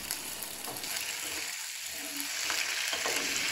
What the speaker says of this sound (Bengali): পেঁয়াজটা ভালো করে এইভাবে ভেজে নিতে হবে, জলটা যতক্ষণ না শুকিয়ে যাচ্ছে।